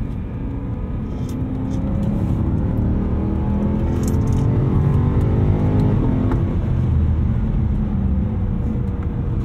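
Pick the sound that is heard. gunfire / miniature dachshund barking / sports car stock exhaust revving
sports car stock exhaust revving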